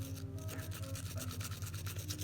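Brush scrubbing parts of a Glock pistol during routine gun cleaning, a close, continuous rhythmic scratchy rubbing of quick back-and-forth strokes with no voices.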